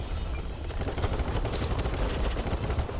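Dense, sustained automatic gunfire in the shooter BattleBit Remastered, a loud continuous rattle of overlapping shots with no pause, up close and alone.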